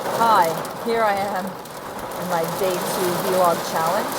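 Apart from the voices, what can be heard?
heavy rain falling outside, heard from inside a car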